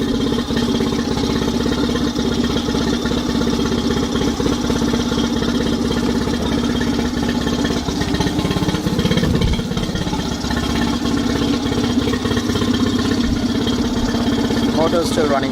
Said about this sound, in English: motor is still running fine. It'll keep running until the gas in the float bowl runs out